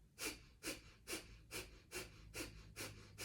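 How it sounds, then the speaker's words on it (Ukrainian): Forceful exhalations in pranayama breathing practice, eight sharp rhythmic puffs through the nose at steady half-second intervals, close and clear with no talking. "Продовжуйте активні видихи, тільки видих, видих, видих."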